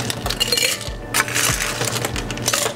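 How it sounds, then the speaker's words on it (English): Ice cubes clatter into a metal cocktail shaker tin during bar preparation of an Old Cuban cocktail, a quick run of bright clinks and rattles close to the mic, with no talking. "fill with ice."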